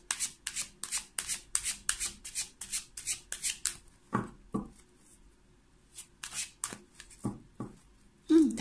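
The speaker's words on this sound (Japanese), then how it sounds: "今ね、出したカードに、こちらのね、ルノルマンカードも、重ねて、合わせて、見ていきます。" Lenormand fortune-telling cards are shuffled and laid out up close: a quick, rhythmic run of crisp riffling strokes, then a pause with a few soft slides and taps as the cards go down.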